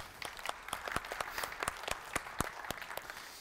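Applause from a conference talk audience, a short burst of scattered hand claps with distinct individual claps rather than a dense roar, moderately close and steady throughout.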